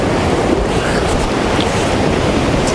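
Sea waves washing against a concrete beach in Khosta, Sochi in December, a dense continuous rush of surf with heavy wind noise on the microphone, loud and unbroken.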